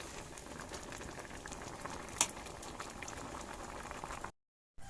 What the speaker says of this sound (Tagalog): Ito na nga po, kulong-kulo na siya.